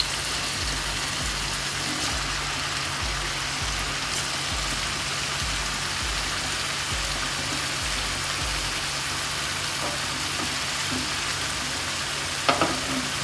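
Paneer masala frying in a pan gives a steady, even sizzling hiss, with a low rhythmic rumble and a few faint stirring taps near the end.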